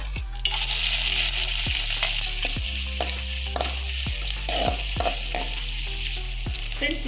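Chopped onion and green chillies fry in oil with a continuous close, loud sizzle, punctuated by repeated spatula scrapes and knocks against the pan at roughly regular intervals.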